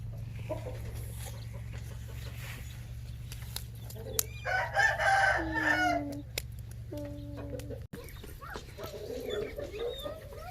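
Chickens cluck close by and a rooster crows loudly, while a dog barks intermittently over a steady low hum and faint voices.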